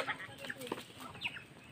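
Chickens cluck in short bursts close by, a few quick clucks with faint background sounds around them.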